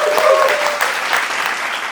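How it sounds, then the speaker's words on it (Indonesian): Applause fills a short break in an Indonesian investment talk show episode, dense steady clapping from a studio audience with a faint voice briefly audible underneath. "tepuk tangan dulu"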